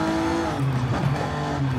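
A BMW M4 in Forza Horizon 5 brakes hard and slides into a drift, its engine droning steadily while the tires squeal and scrub continuously throughout.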